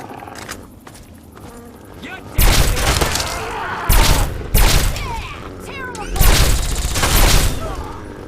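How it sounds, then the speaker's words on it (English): Loud, close gunfire in Fallout 3 hits in several heavy bursts of booming shots with sharp cracks between them, and someone talks in the gaps. "You're shooting at somebody,"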